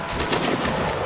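Gunfire in Mount & Blade: Warband Napoleonic Wars, a loud, close burst of overlapping musket-like shots crackling through roughly a second of game audio.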